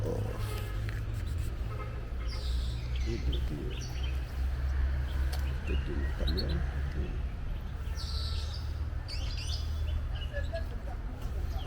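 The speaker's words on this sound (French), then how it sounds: "Donc ici, la cage suivante, j'ai le canari." Canaries sing in a cage at the Abidjan zoo, their faint, scattered high chirps riding over a steady low hum and background noise.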